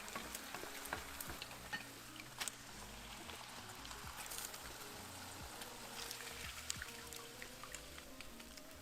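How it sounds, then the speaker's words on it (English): Tortillas frying in a pan of hot, slightly smoky oil for a Mexican dinner salad, a steady broadband sizzle with scattered pops and crackles throughout, close and fairly quiet, with no voices. "I'm gonna continue frying the remaining tortillas for our delicious salad"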